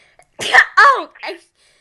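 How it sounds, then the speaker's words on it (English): A single sneeze bursts out close up, a sharp gasping intake followed by an explosive release and a small trailing sound. "the sneeze arrived"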